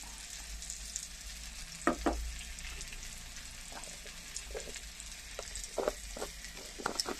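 Curry masala with cumin powder fries in a pan with a soft, steady sizzle, broken by intermittent scrapes and clacks of a spoon stirring it, close by.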